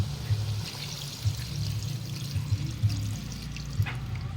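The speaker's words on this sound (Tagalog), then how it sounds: "buhusan na natin ang gata." Coconut milk pours into a pot of cooking snails, a close liquid pour with gentle trickling and soft bubbling, small splashes recurring through the moment, no one talking.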